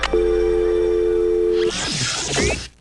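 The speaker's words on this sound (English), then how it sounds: "Phone call terminated." A steady telephone disconnect tone from the Terror T.R.A.X. video game holds for over a second, then gives way to a burst of garbled electronic noise, loud and alone.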